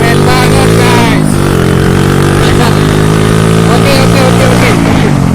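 A modified old Cub 70 motorcycle is ridden at full throttle, its engine loud and close with a steady, rising drone and shifting pitch through the run, while a voice talks over it at points.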